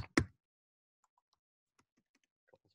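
A computer keyboard is typed on while coding: one loud knock, then a handful of sparse, soft keystrokes scattered over a couple of seconds in a quiet room.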